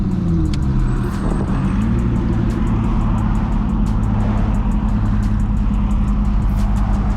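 A Ford Mustang drives loudly through Miami streets, its engine a steady, heavy, continuous roar close by, with a sustained low rumble and no voices over it.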